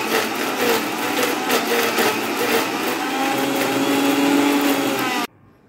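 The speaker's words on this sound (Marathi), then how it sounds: "आता हे मिक्सरमधून फिरवून घेऊया" A mixer grinder whirs steadily at close range while blending mango shrikhand, a sweetened yogurt dessert, running alone for about five seconds before cutting off abruptly.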